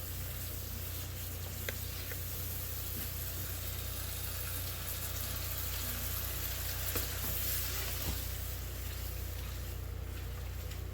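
Pierogi and kielbasa sizzle steadily in a frying pan after a little water is added, a continuous crackling hiss that stays even and close throughout.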